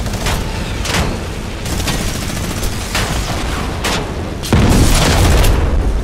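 Rapid bursts of gunfire in a Fortnite match, sharp shots fired in quick succession with heavy low booms, loud and close throughout with a louder stretch near the end.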